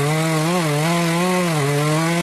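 A chainsaw cutting wood roars close and loud, its engine holding a steady buzzing whine with slight pitch wobbles as it cuts, then cuts off abruptly.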